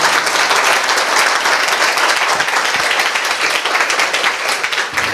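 An audience at a church sermon claps loudly and continuously, a close, dense roar of many hands that stays steady for about five seconds.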